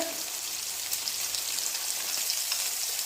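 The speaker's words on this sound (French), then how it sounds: "nos boulettes sont en train de rôtir" Homemade meat balls browning in a pan send up a steady close, dense sizzle of hot fat, even and unbroken throughout, with no voices over it.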